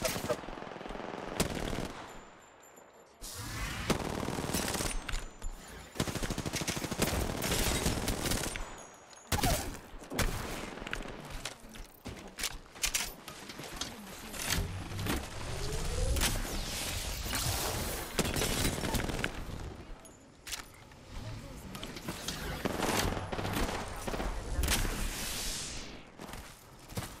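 Sustained automatic gunfire in a first-person shooter, long overlapping bursts from several weapons with short lulls, sharp cracks, footsteps and breaking debris, loud and close throughout.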